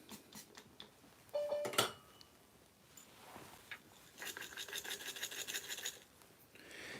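Coffee beans being ground in a Timemore C3 Pro hand grinder, heard as quiet, uneven scratching and crunching in bursts with a steadier rasping stretch later on, no voices over it.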